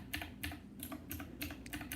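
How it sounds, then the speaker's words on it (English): Mechanical keys on a Divoom Ditoo pixel art display speaker clack quietly, about seven separate key presses in an uneven rhythm, close up and soft, with no talking. "The keys sound great. These are mechanical keys"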